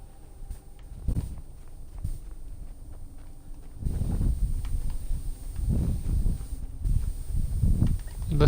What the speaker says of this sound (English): This guy's on a horse.